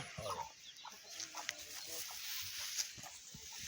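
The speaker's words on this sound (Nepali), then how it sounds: "यो चाहिँ फाइटरको पोथी र चल्ला होइन?" Chickens, fighter-breed hen and chicks, cluck softly at close range amid hissy outdoor background on a farm, with a few brief sharp sounds scattered throughout.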